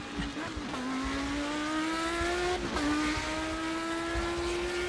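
A race car engine in a video game drones at high revs, its pitch climbing steadily through gear shifts, with brief dips between gears.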